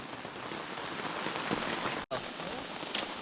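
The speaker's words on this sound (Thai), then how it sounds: "ฝนตกแบบนี้แหละ" Steady rain pours through the night beside a stream, a dense constant hiss filling the scene from start to finish with no other sounds, broken only by a brief dropout about two seconds in.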